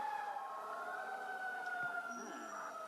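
A fire truck siren wails in the LEGO Ultra Agents video game, a steady, continuous tone held at moderate loudness throughout with no talking.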